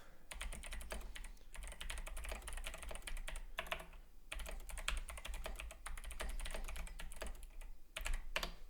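Fast typing on an 8BitDo Retro Keyboard Model M, close and crisp rapid key clicks in steady runs with brief pauses, quiet and alone without any voice.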